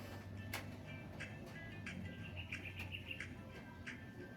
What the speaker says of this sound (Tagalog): maririnig nyo dito mga huni lang ng ibon.